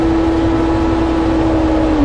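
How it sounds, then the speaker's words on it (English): A riding mower engine drones in a field with a steady, loud hum as its PTO clutch is engaged, the pitch sagging and the note thickening right at the end as the engine takes the load. "So then what I will do is I will effectively pulse this PTO clutch."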